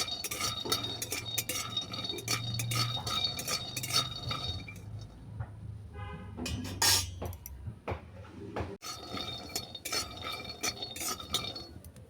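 Peanuts dry roasting in a pan, with steady clinks and rattles as the nuts are stirred against the metal, close by and moderately loud, joined by a brief scraping swirl midway.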